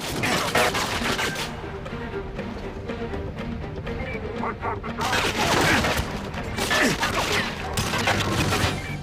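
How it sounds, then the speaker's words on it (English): Constant gunfire in GoldenEye 007 on the Wii in the St. Petersburg Archives level, with dense bursts of automatic shots and booms under a talking voice, loud throughout. "His bullets are grazing me."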